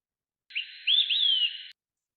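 A clear, bright whistled olive-sided flycatcher song: a short note, a pause, then a longer slurred two-part phrase, sung alone against silence.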